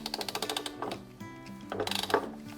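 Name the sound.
ratchet clamping mechanism on a wood router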